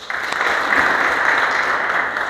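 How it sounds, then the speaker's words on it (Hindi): Loud, steady applause from a crowd at a workplace safety day program, dense clapping sustained evenly from start to finish with no voices on top. "इतने बढ़िया कॉम्प्लीमेंट के लिए जोरदार तालियां बनती है भाई"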